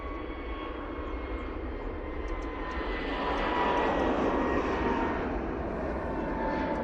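An Airbus A321neo at Manchester Airport sends out a steady jet engine rumble that swells a little louder midway and then holds, heard alone at moderate distance.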